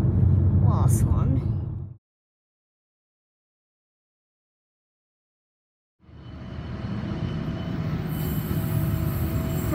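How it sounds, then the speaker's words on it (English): A freight train rumbles past loudly and close at Katoomba, its wheels grinding, with a sudden silent gap midway before the roar returns and high metallic wheel squeal rises near the end. "Freight train."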